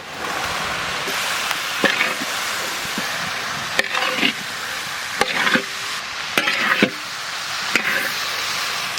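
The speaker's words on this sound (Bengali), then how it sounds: "এবার আমরা সিদ্ধ মটরটা দিয়ে আরো সুন্দর করে কষিয়ে নেব।" Boiled peas stir-fry in spices in a pan for Bengali ghugni under a steady sizzle, with sharp metal clacks and scrapes of a spatula at irregular intervals.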